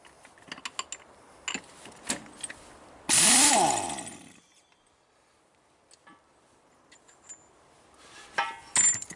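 A cheap Harbor Freight impact gun zips off bolts on a rat rod before transmission removal, one loud burst of about a second amid scattered clanks and knocks of tools, then quiet workshop noise.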